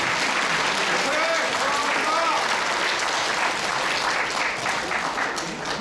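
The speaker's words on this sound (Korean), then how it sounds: "다시 한번 뜨거운 박수 부탁드리겠습니다." Warm applause from an audience at a book launch event for a collection about National Assembly members, with steady dense clapping throughout and some voices mixed in, easing slightly near the end.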